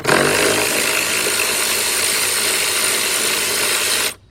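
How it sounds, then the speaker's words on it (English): A ratchet wrench turning the thermostat bolt on a 2006 Jeep Grand Cherokee 3.7 engine: a dense, fast mechanical clicking whir runs steadily and close for about four seconds, then cuts off abruptly, with no talking. "now a regular ratchet, you're gonna be sitting here trying to twist back and forth"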